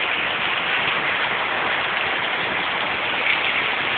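Steady rain falls on a surface, giving an even, dense hiss that holds unchanged throughout with no voices.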